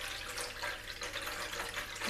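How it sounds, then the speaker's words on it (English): Water is poured into the bowl of an Aerogarden indoor garden seed starting kit, a steady close splashing trickle with no talking. "I'm just going to pour this water in there"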